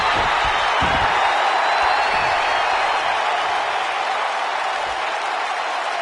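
A video game wrestling arena crowd roars with steady applause and cheering, a dense, continuous wall of noise that holds at full level from start to finish.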